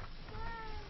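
A house cat gives one short meow, close by and soft, over low background hiss in a room where an online Dota 2 esports match is being commentated.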